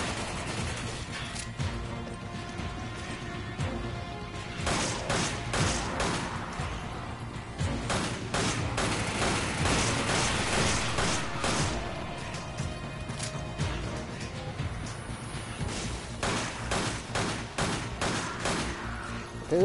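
Rapid, repeated gunfire in the Resident Evil 5 video game, with dense bursts of shots and crashing impacts that come and go in clusters across a long stretch of play.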